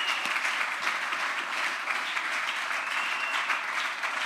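A church congregation applauds during a Sunday service, a dense, steady wash of many hands clapping close by, sustained without pause and with no talk over it.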